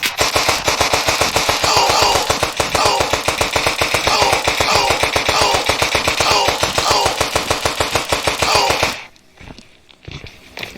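An AK rifle fires in a video game as one long, loud, rapid automatic burst of steady shots that lasts about nine seconds and then cuts off into near silence.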